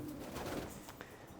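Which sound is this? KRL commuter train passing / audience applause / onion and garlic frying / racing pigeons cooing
racing pigeons cooing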